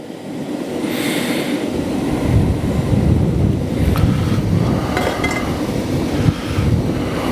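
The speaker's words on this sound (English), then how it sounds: "You can see it's a bit windy." Outdoor wind buffets the microphone beside a coke forge, a broad, continuous rushing roar with low rumbling gusts that swell after the first second and stay loud, with no speech.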